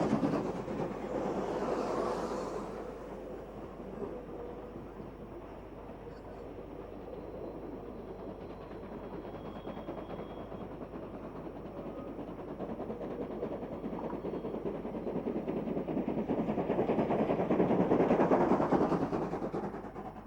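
Class 15F locomotives 2913 and 2936 with class 15CA 2836, steam engines hauling a heavy train of waste material past a mine shaft, give a rolling rumble that fades and then swells louder toward the end.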